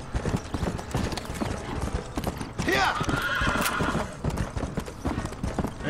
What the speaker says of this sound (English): this horse is hauling ass